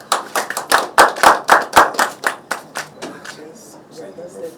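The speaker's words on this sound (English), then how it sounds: "A hand clap." A burst of hand clapping at an official handover ceremony, a quick run of sharp close claps that gradually thins into scattered softer ones, with faint voices at the end.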